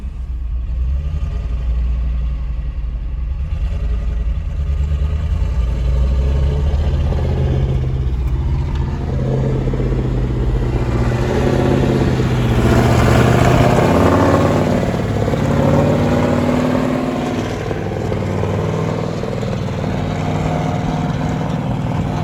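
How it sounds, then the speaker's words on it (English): A tractor engine with a repaired throttle linkage revs up from a low idle rumble, climbing to a loud, strained peak midway before settling back, heard close and alone. "it does rev out a lot now, though, since we fixed that throttle linkage"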